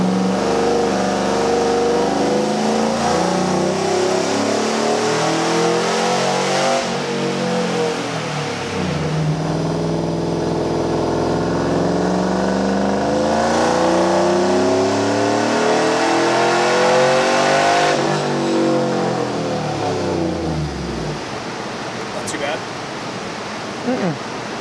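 The engine of a Cadillac Escalade fitted with an upgraded supercharger revs loudly and close, in long swells that rise and fall repeatedly over a constant roar.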